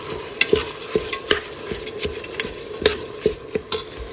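Basmati rice roasting in ghee and oil crackles with a low sizzle while a spoon stirs and knocks against the pan in uneven, close clicks.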